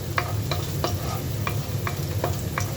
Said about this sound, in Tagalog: Siyempre, piprituhin natin yung ating bawang.